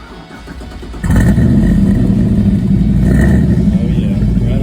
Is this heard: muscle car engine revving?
yes